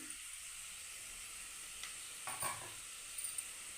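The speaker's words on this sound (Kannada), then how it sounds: "ಕಡಲೆ ಬೀಜ ಕಲರ್ ಸ್ವಲ್ಪ ಚೇಂಜ್ ಆಗೋವರೆಗೂ ಸ್ವಲ್ಪ ಫ್ರೈ ಮಾಡಿಕೊಡಿ ಲೋ ಫ್ಲೇಮಲ್ಲಿ ಇಟ್ಕೊಂಡು ಫ್ರೈ ಮಾಡ್ಕೊಳ್ಳಿ" Peanuts fry on a low flame with a faint, quiet sizzle, broken by a couple of brief stirring scrapes.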